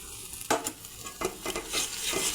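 Masala with ground coconut sautéed in a pan for a pointed gourd and prawn curry, a steady sizzle broken by several close spatula scrapes about half a second apart, no speech.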